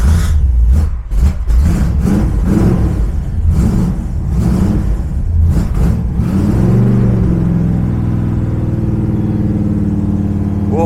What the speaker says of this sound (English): warm the engine up because we've got no choke.